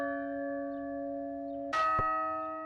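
A bell tolling in imitation of a song: a sustained, ringing tone with steady overtones, then a sharp new strike that changes the pitch and rings on, clear and alone.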